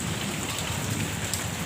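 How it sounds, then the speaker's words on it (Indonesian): Heavy rain pours steadily outside a house during a windy storm, a dense, loud, continuous hiss of drops on surfaces with no voices. "Hujan deras."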